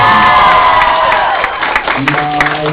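A convention audience at a Q&A session breaks into a loud round of applause and cheering that fades after a second, with scattered claps and voices continuing.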